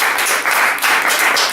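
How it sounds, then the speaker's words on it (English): An audience at a Robert Burns Night poetry reading at a beach library claps in a loud, dense, steady burst of applause, close and sustained, with no talking over it. "So yeah, round of applause."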